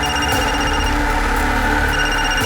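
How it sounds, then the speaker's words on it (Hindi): A telephone rings in a crime drama scene, its tone sounding steadily under a loud, dense background of music and noise. "फोन है सर"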